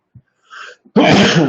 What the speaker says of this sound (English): I got a sneeze building up, so I'm gonna turn off the mic for a second